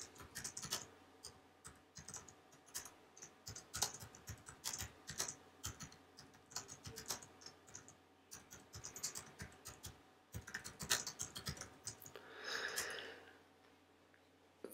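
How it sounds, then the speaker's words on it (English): Fast, uneven typing on a computer keyboard, close up, bursts of key clicks with short pauses, then a softer rustle near the end. "You can start typing down here."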